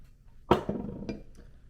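A glass is set down on a hard surface for AeroPress coffee brewing, giving one sharp clink followed by a couple of softer knocks nearby, with no talk.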